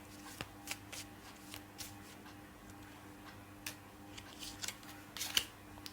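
Lenormand cards being shuffled and pulled from a deck, giving quiet, close, irregular papery ticks and flicks in a hushed room, with no talking.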